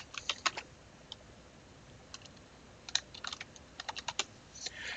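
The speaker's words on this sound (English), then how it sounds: "type in our credentials" Login credentials being typed on a computer keyboard, with quiet, irregular bursts of key clicks close by and brief pauses between them.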